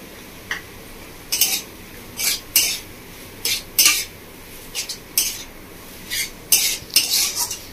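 A spoon clatters and scrapes repeatedly against a pan while paneer paratha filling with chaat masala is fried, sharp metallic clinks arriving in irregular bursts over a faint background.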